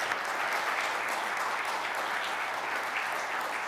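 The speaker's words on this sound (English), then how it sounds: "Let's give them all one more round of applause." An audience at a conference claps for the panelists, a dense, steady round of applause from a large room that holds evenly throughout with no voices.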